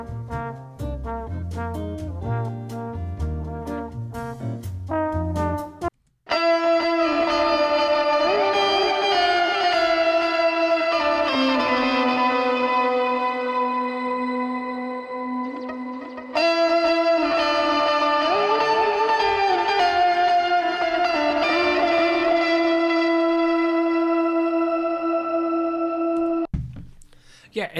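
A heavy shoegaze lead synth in Ableton, a Class A glide patch with a pitch shifter and distortion, holds long buzzing notes that bend and slide between pitches, wide and saturated, after a short burst of quicker plucked notes.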